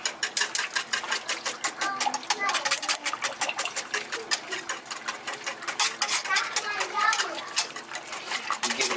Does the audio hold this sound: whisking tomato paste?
yes